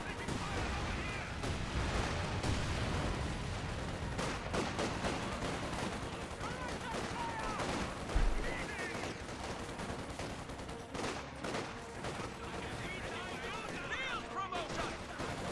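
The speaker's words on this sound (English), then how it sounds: "Incendiary Barrage now being summoned." Incendiary artillery barrage in Company of Heroes 2, heard as a dense, continuous battle din of booming shell impacts and crackling gunfire, with one heavier blast standing out partway through.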